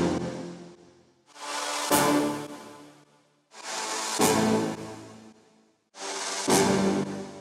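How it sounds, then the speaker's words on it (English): A cashmere brass hit sample lands on each chord, three times in all, every hit preceded by a reversed swell that rises into a bright, full burst before fading, played alone at moderate level. "Under all of this, we have a brass hit for every chord"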